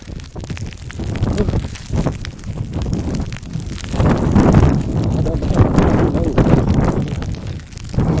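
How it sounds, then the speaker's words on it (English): Strong winter snowstorm wind buffets a microphone outdoors, a loud continuous roar that swells and gusts throughout, with a person talking over it. "It's so windy, Shawana."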